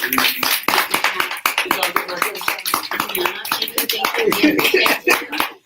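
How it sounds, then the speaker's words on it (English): Audience applause for photographers and videographers at a mindfulness event, a dense run of close, sharp hand claps with chatter and voices mixed in. "Let's give them a round of applause."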